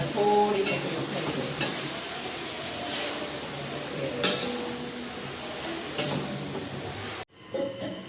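Sama millet khichdi cooking in a pot, a soft sizzle with occasional spoon clinks and scrapes as it is stirred, over a constant background hum; a brief pause near the end, no talk.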